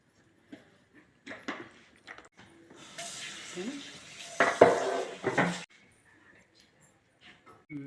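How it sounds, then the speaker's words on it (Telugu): Cucumber chutney being stirred by hand with a spoon as cooled tempering is folded into the chopped raw cucumber, giving intermittent scraping and clinking against the bowl, louder in the middle and then tapering off, with no talking. "పోపు చల్లారిన తర్వాత ఇప్పుడు ఈ ముక్కలలోకి ఈ పోపు అంతా కలిపేసిన."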